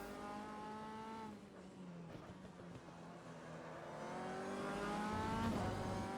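Race car at full throttle on the Adelaide street circuit during an AMS MCR Race Cars Championship round, engine howling steadily with rising harmonic pitch, loud and close, swelling louder toward the end with no voices.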